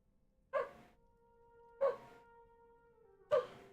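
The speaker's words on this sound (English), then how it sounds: "So if you can hear the dog, she's decided it is time to whinge." A dog whining and yelping indoors, three short separate cries spaced about a second apart, each with a faint tonal tail, heard alone against a quiet background.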